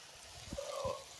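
Water poured from a container into a cooking pot for chicken stew, a brief trickling pour lasting about a second with a few low knocks around it, close and moderately quiet.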